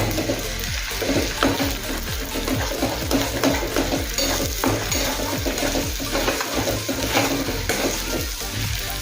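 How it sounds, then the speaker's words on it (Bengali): Beaten eggs for egg bhurji fry and sizzle in a pan over a high gas flame, with steady hissing and the repeated scrape and clink of a spatula stirring against the metal, close and loud. "সেই সময় গ্যাসের ফ্লেম হাই রেখে ডিমের ভুর্জি বানিয়ে নেব"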